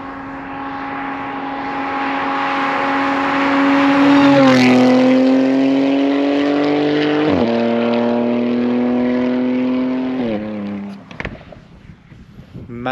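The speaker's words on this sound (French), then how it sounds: "Regardez son bruit de F1 mon pote." A high-revving race car engine screams loudly, its pitch climbing and dropping through gear changes, then fades away near the end.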